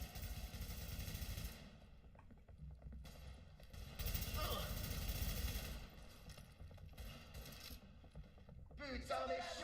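Bursts of automatic gunfire in The Division video game, rapid rattling volleys that start and stop at intervals, with speech and game voices mixed in.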